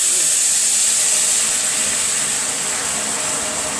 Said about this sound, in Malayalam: തിളച്ച വെള്ളം ഒഴിച്ച് കൊടുക്കാം.